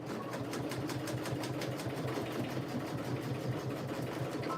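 Sewing machine stitching through thick purse layers, a continuous close mechanical chatter with a rapid even rhythm throughout.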